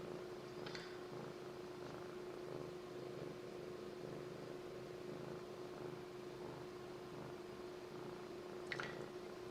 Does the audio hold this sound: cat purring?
yes